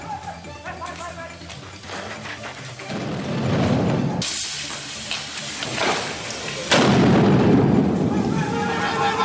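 National Security Guard forces stage an anti-terror drill with guns at Madurai Meenakshi Amman temple, with loud, harsh bursts of gunfire breaking out several times under a voice talking.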